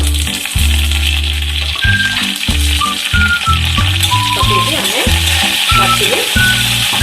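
Panch phoron, dried red chillies and curry leaves sizzle loudly in hot mustard oil for dahi curry, a dense, steady frying hiss that runs throughout while a voice speaks over it.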